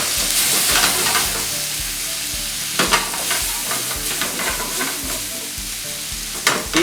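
Veal sweetbreads with black truffle, seasoned with pepper and white wine, are flambéed in a hot pan, giving a steady, loud sizzle with a few sharp crackles and stirring scrapes throughout.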